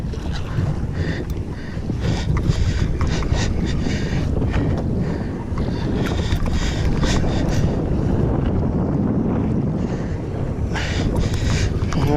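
Strong wind gusts buffet the microphone outdoors during a fishing trip, producing a steady, loud, broadband roar with occasional flutter.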